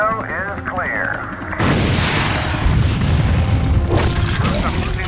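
Artillery round detonating in The Incredible Hulk: Ultimate Destruction game, a sudden loud boom that cuts in after a radio-style voice and rumbles on with crackling debris, a second heavy burst following near the end.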